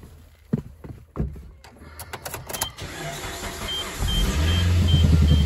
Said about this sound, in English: let me start the car